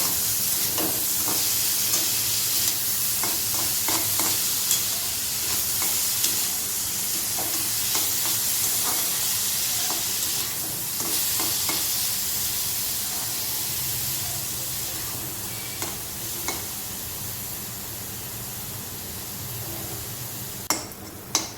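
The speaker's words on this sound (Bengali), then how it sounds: "আমাদের গাজর আর ক্যাপসিকামটা লাল লাল ভাজা হয়ে গেছে" Carrot and capsicum fry with a pinch of salt in a pan, giving a steady close sizzle and hiss throughout, broken by frequent clicks and scrapes of a spatula stirring.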